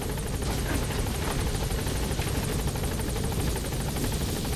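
Pequod support helicopter from Metal Gear Solid V arriving at a landing zone, a steady loud rotor thump and turbine whine filling the whole stretch without pause.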